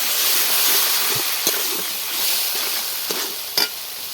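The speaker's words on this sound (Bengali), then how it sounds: "এবার আমি সামান্য জল দিয়ে দিচ্ছি।" A loud hissing sizzle from a mushroom curry after a little water hits the hot pan, settling into a steady steamy fry with a few utensil knocks, no voices.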